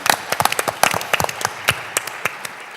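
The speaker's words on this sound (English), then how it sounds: "Give him a round of applause, please, ladies and gentlemen." Applause from a quiz-night audience at an agency jeopardy game, broken and uneven, with scattered individual claps rather than a full ovation, moderately close.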